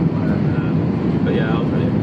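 An airplane comes in to land, heard as a loud, dense low rumble of engine and airflow filling the space, with muffled voices faintly mixed in.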